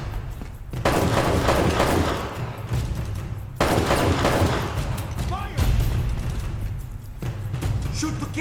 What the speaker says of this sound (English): There's a guy with a sniper rifle, apparently.